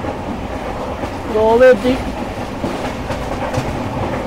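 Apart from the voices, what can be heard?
train running on the Konkan Railway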